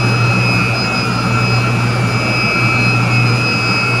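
A chiller compressor runs in a plant room, a loud, steady mechanical roar with a constant low hum and high whine, unchanging throughout with no voices.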